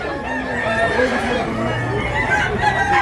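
Several roosters crow over one another at a gamefowl market in Tabunok, Talisay, Cebu, drawn-out calls and clucks layered in a dense, continuous chorus, fairly close and loud.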